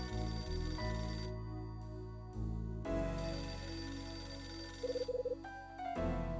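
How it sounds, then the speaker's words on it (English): A telephone rings in the Nintendo DS game Last Window: The Secret of Cape West, repeated electronic ring bursts over a sustained musical background, moderately loud, with no speech. "The damn phone again."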